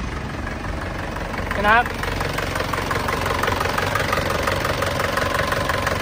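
A 2003 Isuzu D-MAX cab pickup with a 2.5-litre diesel engine idles with a steady, close, rough clatter throughout, and someone speaks briefly over it.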